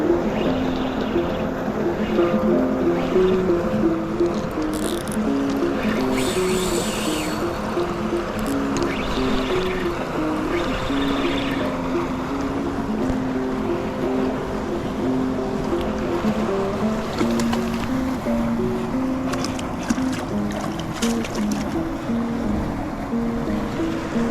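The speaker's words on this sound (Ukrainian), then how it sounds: "Тут річечка тече, шумить сильно" Steady, loud rushing of a flowing river, continuous and unbroken throughout with no voices.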